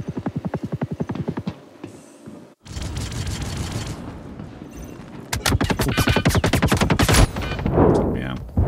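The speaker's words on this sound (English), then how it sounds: "I didn't know what that gun did until I started firing it." Rapid automatic gunfire in the first-person shooter Star Citizen, dense rattling bursts separated by a brief pause, loud and close.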